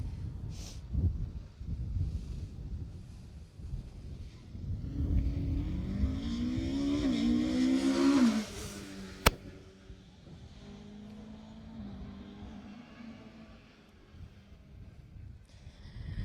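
A Jersey rally car approaches on a closed stage, engine rising in pitch as it nears, peaking loudly around the middle and fading into the distance with a sharp burst near the pass.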